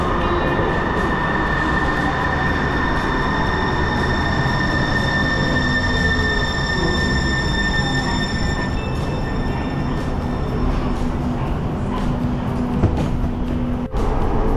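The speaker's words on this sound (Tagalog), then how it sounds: "tingnan nyo yung train dito sa Linwood, dito sa Washington" A Metrolink commuter train rolls past at Lynnwood, Washington, loud and close, a steady roar of wheels on rails with high metallic squeal tones running throughout and no talking.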